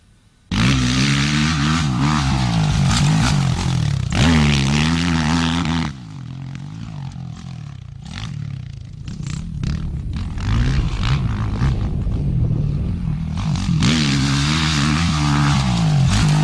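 Motocross dirt bike accelerating hard down a straightaway on a practice track, its engine a loud, close, buzzing whine rising through the gears, fading somewhat midway and then revving strongly again.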